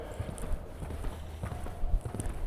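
A horse's hooves clip-clop at a walk on an outdoor riding arena during a jumping lesson, a faint, irregular thudding rhythm under a steady background hum.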